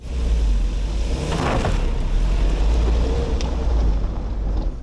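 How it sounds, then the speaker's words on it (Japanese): A Suzuki Jimny Sierra engine roars steadily and close as the clutch is dumped on loose gravel, with a rough rush of tyres slipping partway through, under wind noise. "クラッチをスパンとつないでみましょう"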